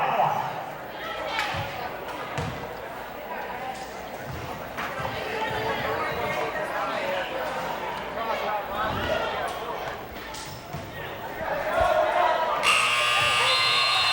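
Crowd noise and sneaker squeaks fill a gym with a commentator talking over it, then a loud, steady electronic buzzer sounds near the end.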